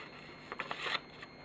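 Bellota garden scissors snipping paper, a few short crisp cuts and rustles close by in a quiet room.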